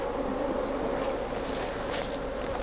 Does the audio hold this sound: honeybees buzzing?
yes